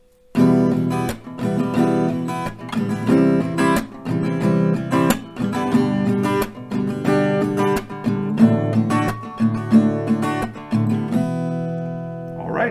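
An acoustic guitar is strummed in a steady rhythm, chords changing every few beats, played up close with no voice.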